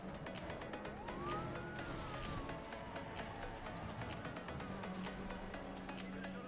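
A police car siren wails in the racing video game Need for Speed The Run, rising and falling over engine noise, moderately loud with sparse talk.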